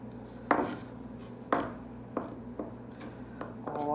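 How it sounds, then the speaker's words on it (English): A knife chops vegetables on a cutting board in a series of sharp, close taps spaced about half a second to a second apart. "Line them all up, chop, chop, chop, chop, chop, chop, chop, chop, chop, chop, chop."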